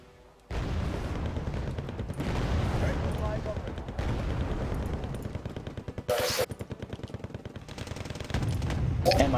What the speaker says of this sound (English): That's some artillery, no?